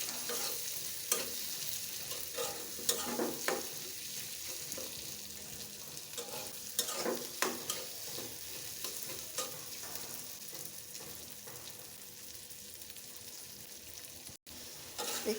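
Beef tripe and potatoes sizzle steadily in oil in a blackened wok, with scattered stirring scrapes and spatter bursts over a dense, even hiss and no voices.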